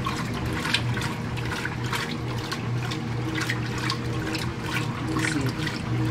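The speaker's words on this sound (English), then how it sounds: "See, it's doing a good job getting these clothes rinsed." A Speed Queen TC5 top-load washing machine rinses clothes, giving a steady, close wash of sloshing and churning water with a constant low mechanical hum and a periodic swish from the agitator, with no voices.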